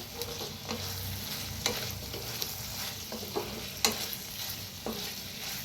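Potatoes sizzling in a frying pan with cilantro as a spoon stirs them, giving a steady hiss broken by several distinct scraping strokes against the pan; no talking.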